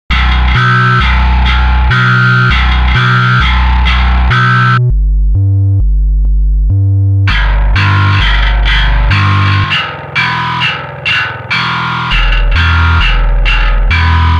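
Loud, heavily distorted industrial metal bass and synth layers pound out a chugging rhythmic pattern, with a brief break where only the cleaner low bass notes remain.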